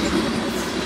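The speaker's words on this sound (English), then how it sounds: "Definitely coal train, as you can tell." An empty BNSF coal train passes close by on the line along Lake Minnetonka, giving a loud, steady rumble of wagons rolling past with a faint clatter of wheels.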